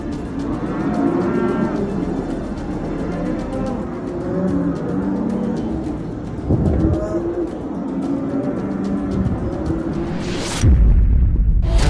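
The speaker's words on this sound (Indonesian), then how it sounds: "terdengar bagaimana sapi-sapi itu melenguh lantaran terjebak di kandangnya tanpa bisa menyelamatkan" Cattle trapped in a burning barn bellow loudly and repeatedly over a dense roar of fire and commotion, with a sharp crackling burst near the end.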